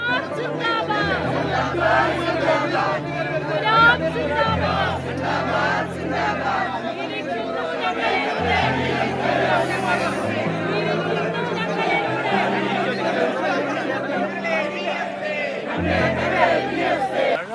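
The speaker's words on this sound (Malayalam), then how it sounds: "ജില്ലാ കമ്മിറ്റി ഓഫീസിന് മുൻപിൽ അച്യുതാനന്ദനെ കാണാൻ ആൾക്കൂട്ടങ്ങൾ രൂപപ്പെട്ടിരുന്നു" A large crowd gathered before a district committee office for V. S. Achuthanandan's funeral procession keeps up a dense, continuous roar of chatter and rhythmic chanted slogans, loud and close throughout.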